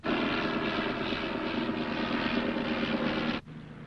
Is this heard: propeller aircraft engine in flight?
yes